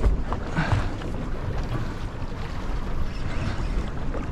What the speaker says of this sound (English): I might just motor out of here. Just motor out of here gently.